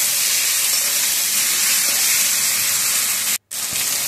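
Ginger, garlic and cumin paste frying with onions in a pan, a loud, dense, continuous sizzle and hiss up close, broken by one brief drop-out near the end.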